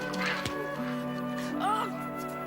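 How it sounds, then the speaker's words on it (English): A duck quacks from inside a church well in a children's fairy tale, a few nasal calls over a steady musical background that plays throughout. "in the well swims a duck."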